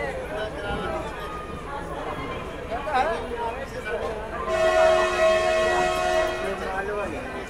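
The 12721 Dakshin SF Express pulls out of Jhansi station, a rumbling onboard rattle under someone talking, with a loud horn blast sounding for a couple of seconds midway.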